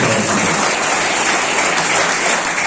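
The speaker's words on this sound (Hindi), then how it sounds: "सभी शिक्षकों के लिए जोरदार तालियां" At a school Teachers' Day celebration, an audience gives a loud, dense, steady round of applause for the teaching staff, continuous throughout with no talk on top.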